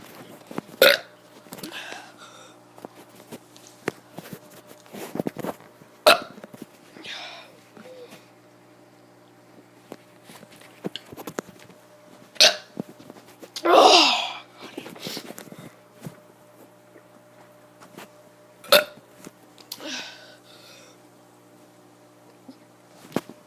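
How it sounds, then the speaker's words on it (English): A kid lets out a series of short, gulping burps spaced irregularly across the stretch, one longer and louder eruption near the middle, with quiet room tone between. "Today I'm going to be doing some burps."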